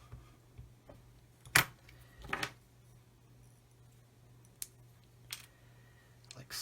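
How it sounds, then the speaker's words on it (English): Snips cut the corner off a plastic part from a 1/144 scale Roden C-141B Starlifter model kit, giving a sharp close click followed by a few faint ticks and handling taps in a quiet room. "just cut the corner off of this one"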